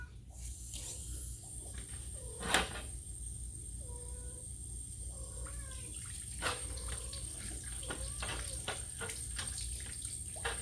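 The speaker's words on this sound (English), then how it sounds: "I'm going to just rinse the cotton out the best I can" Low-running tap water rinsing aquarium filter cotton, a steady close splashing rush with occasional squeezing and handling sounds, no talking.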